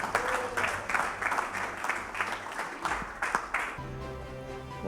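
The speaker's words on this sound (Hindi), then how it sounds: "प्लीज़ इनके लिए भी तालियां।" Audience applause for cricketer Sajid Khan at a Pakistan cricket stars evening show, a steady clatter of clapping beneath a host's voice and background music, ending as the clapping thins out into a musical sting.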